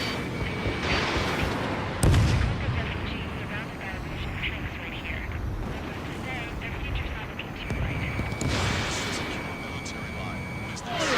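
Missile launches and explosions in the Ace Combat 7 flight game, with a sharp blast, rumbling booms and jet noise under repeated radio voices and warning tones.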